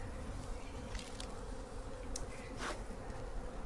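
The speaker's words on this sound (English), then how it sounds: "we're gonna get rid of some of these bees on the outside" Aggressive honey bees swarm around a hive built inside a garage wall, a steady close buzzing with a few individual bees zipping loudly past.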